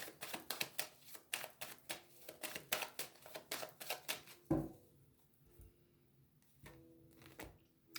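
A deck of tarot-style cards being shuffled and cut close by, a quick run of crisp riffling flutters followed by a pause and a few soft slaps as the pile is split and set down.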